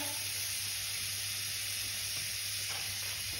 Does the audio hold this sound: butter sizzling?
yes